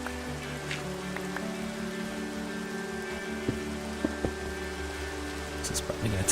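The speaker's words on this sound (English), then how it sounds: "Of course it's raining. Why wouldn't it rain?" Steady rain falls in the video game Minecraft as a dense, even hiss, joined by a few faint clicks and soft knocks from the game.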